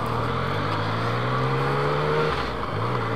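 Yamaha MT-09 motorcycle ridden through a roundabout, its engine a steady, close drone that holds a single pitch, dips briefly, then resumes, loud and continuous without speech.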